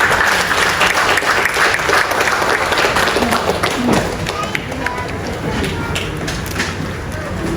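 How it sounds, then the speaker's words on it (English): Guests at a breast cancer pink tea party in Majuro give a cancer survivor a loud, close round of applause. The clapping is full at first, thins slightly after a few seconds, and voices and shuffling show through it. "May we give her a round of applause."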